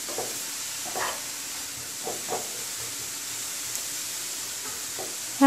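Grated carrots for gajar halwa fry over medium heat with a soft, faint sizzle, a few quiet scrapes of stirring rising above it, and a brief louder clatter at the very end.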